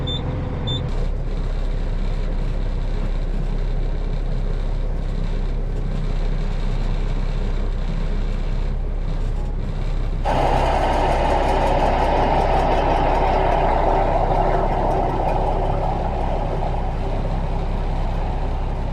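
A heavy truck engine idles steadily and loudly for the whole stretch, joined partway through by a constant higher hissing whir.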